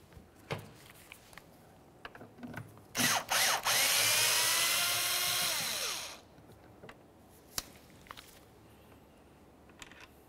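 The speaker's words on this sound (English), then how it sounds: "Go ahead and remove that screw." A power drill or driver backs out a Phillips head screw from the windshield wiper cowl grille of a 2001–2005 Ford Explorer Sport, one whirring run of about three seconds amid faint clicks and handling noises.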